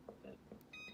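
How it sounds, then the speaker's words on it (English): A kitchen timer beeps as it is set, giving a few short, quiet electronic tones followed by a longer, steady beep, all heard close up in a kitchen. "So let's set a timer."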